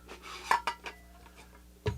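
A camping pot drops into its nesting cookware set with a few sharp metallic clinks and clatters, close by, then one more knock near the end.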